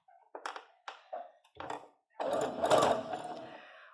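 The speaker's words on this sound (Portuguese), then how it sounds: "E aqui eu vou costurando um pé de máquina." Sewing machine stitching a double-sided fabric placemat cover at a small 2.5 stitch length, with a few short taps and bursts before a longer continuous run of stitching, close and fairly quiet.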